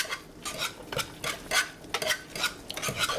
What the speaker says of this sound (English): And we'll just whisk it.